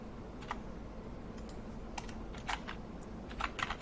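Keys clatter on a computer keyboard as a password is typed, a quiet, irregular run of clicks in small bursts with a short pause between them.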